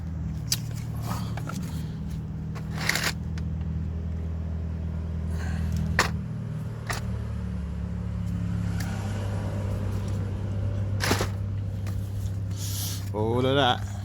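A MINI Cooper R56 blower motor fan spins on the bench with a steady, low, droning hum, broken by several sharp clicks and knocks, and a brief whirring sweep near the end.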